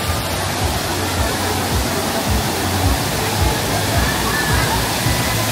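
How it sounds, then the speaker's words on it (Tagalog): A waterfall on the Bolinao River in Pangasinan roars as a steady, dense wash of rushing water that holds even and loud throughout, with low voices murmuring underneath. "there are the numerous waterfalls scattered along the Bolinao River"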